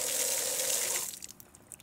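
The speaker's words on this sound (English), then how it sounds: "So with the water back on, we'll go ahead and turn things on" An outdoor faucet runs with a steady gushing stream of water for about a second, then is shut off, leaving a few faint drips and splashes.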